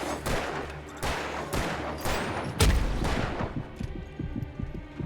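Rapid gunfire bursts from the video game Alan Wake, several loud sharp shots in quick succession over the first seconds, then a heavier blast followed by a rumbling tail of scattered hits and echoes.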